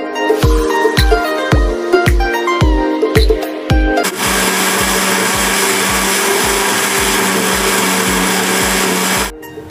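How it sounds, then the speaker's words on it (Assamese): A kitchen mixer grinder pulverises Oreo biscuits, starting with rapid rhythmic chopping pulses before settling into a loud, continuous high-pitched whirring grind that runs for several seconds and then stops abruptly. "এতিয়া প্ৰথমে বিস্কুটখিনি মিক্সাৰ গ্ৰাইণ্ডাৰত গুড়া কৰি ল'ম।"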